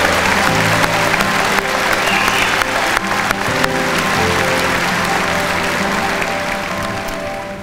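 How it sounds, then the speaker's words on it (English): A large commencement audience applauds first-generation college graduates at a fall university ceremony, dense steady clapping filling the hall for several seconds and slowly tapering near the end. "Please give them a round of applause for their accomplishments."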